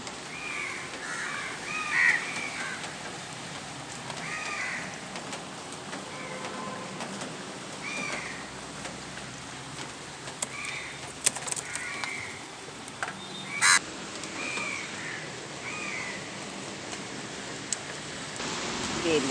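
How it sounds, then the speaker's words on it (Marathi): Rain beginning to fall outdoors, a steady soft patter running throughout while crows caw repeatedly nearby in short bursts, with occasional faint voices in the background. "पाऊस पडाला म्हणून पाऊस चालू झाला"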